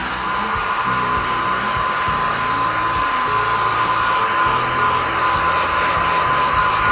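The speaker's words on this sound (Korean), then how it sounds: "그래서 이때 바로 또 헤어드라이기가 필요합니다" A hair dryer dries white fabric paint splattered on black denim jeans, blowing with a steady, loud whirring whine that never lets up, while faint music plays underneath.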